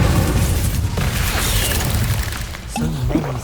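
An Incendio fire spell cast in Hogwarts Legacy bursts out as a loud, dense roaring whoosh with booming crackle that holds for several seconds before tailing off under game effects.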